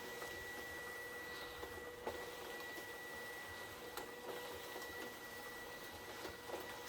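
A Scantron scoring machine hums steadily as it rolls scorecards through, with soft periodic clicks and ticks of paper feeding, quiet and continuous.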